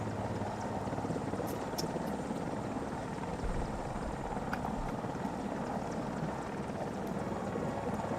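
Mi-8 AMTSh helicopter in a video game, a steady low rotor and engine drone with broadband rush holding evenly throughout, fairly faint and unbroken by talk.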